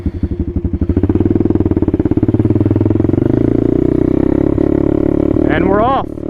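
An Apollo 125 RFZ Chinese dirt bike idles with a loud, close, pulsing single-cylinder thump, then its engine note rises as it clicks into first gear and pulls away.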